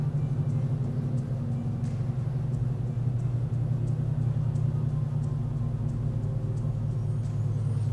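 A truck fitted with a BTR Truck Norris camshaft runs on a dyno, its engine a constant deep rumbling drone with a strong low hum, loud and continuous with no talk.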